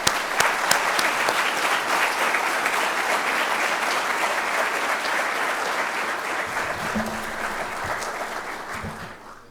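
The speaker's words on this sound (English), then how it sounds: "Please join with me in giving Kai another round of applause." Sustained applause from a ceremony audience honoring a retiree named Kai, steady and full for most of the span before tapering off near the end.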